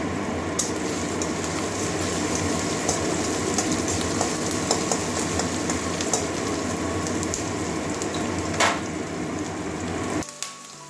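Onion frying in oil with a broken dried red chili, cooked until browned for a drumstick curry with mustard and poppy seed paste; a steady dense sizzle runs throughout, then drops away sharply near the end.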